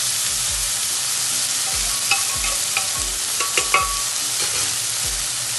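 Cooked lentils are stirred into a sizzling pan for masoor dal, with a steady fry hiss under scraping strokes and a few clinks of the spoon against the pan.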